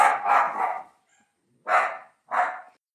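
A dachshund barking close and loud: a rough, drawn-out bark, then a pause, then two sharper separate barks.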